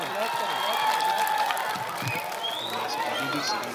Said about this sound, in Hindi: क्लैप करें।